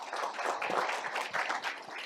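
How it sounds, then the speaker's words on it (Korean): Audience at a Korean peninsula infrastructure forum applauds an invited keynote speaker, with steady, dense clapping from a crowd throughout the short stretch and no speech over it. "큰 박수 부탁드립니다."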